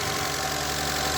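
A hot car engine idles with a steady mid-pitched drone and faint knocking texture, continuous and fairly close, with no voices over it.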